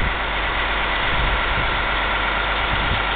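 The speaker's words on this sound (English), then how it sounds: "The engine's running." An engine idles steadily and evenly at close range, a continuous low rumble with no revving and no voices.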